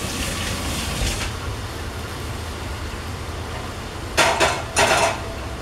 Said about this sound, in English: And mix it around, stir it around.